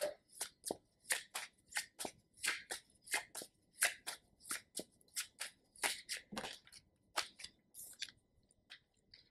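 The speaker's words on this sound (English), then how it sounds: "so I'm gonna shuffle again." A deck of tarot cards is shuffled rapidly and close up, giving a long run of crisp, riffling bursts in a steady rhythm with no voices.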